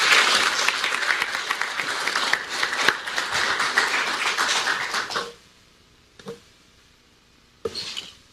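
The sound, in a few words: loud applause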